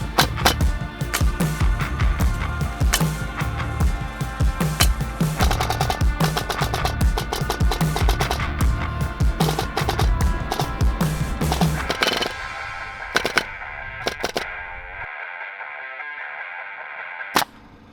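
A wide crown stapler fires staples in a fast, continuous string of sharp mechanical snaps for about twelve seconds, then a few scattered single shots follow in a quieter room.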